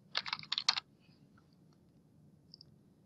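Someone types on a computer keyboard in a short burst of quick, close clicking keystrokes that stops after under a second, followed by near silence with a couple of faint stray clicks.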